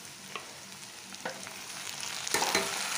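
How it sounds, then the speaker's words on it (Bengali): Pieces of bitter gourd drop one by one into hot oil in a wok, each landing with a sharp crackling burst before the sizzle swells to a steady frying hiss. "এখানে কড়াই তেলটা গরম হয়ে গেছে, এই উচ্ছেগুলো ওখানে আমি এক এক করে দিয়ে দিচ্ছি।"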